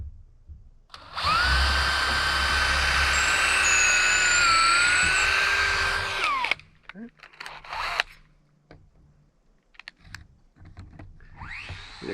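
A power drill whines steadily for several seconds while fastening laminated foundation beams for an A-frame cabin, then stops, followed by scattered handling clatter and knocks.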